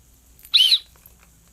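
A small plastic survival-kit whistle gives one short, shrill blast, close and loud, followed by near silence.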